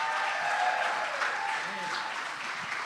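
An audience welcomes comedian Chris Law to the stage with applause, a steady wash of clapping while a voice talks over it.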